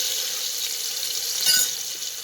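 A spoonful of ginger-chili-garlic paste sizzles steadily in hot oil with mustard seeds inside a pressure cooker, a continuous soft frying hiss with a brief louder spit near the end.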